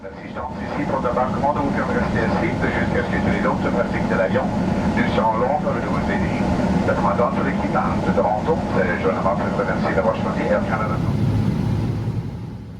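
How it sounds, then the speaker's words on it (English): An Air Canada Boeing 777-200LR taxis to the gate in Montreal, heard from inside the cabin as a steady low engine rumble and hum beneath ongoing conversation from people aboard. "we're taxiing over to park at gate A50, about 35 minutes behind schedule."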